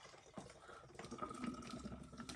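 A Guinness Draught can pours into a glass in a short, close gushing stream of beer, foaming continuously with no talk.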